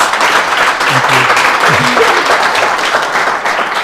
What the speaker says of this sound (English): can you give Uwe another hand of applause?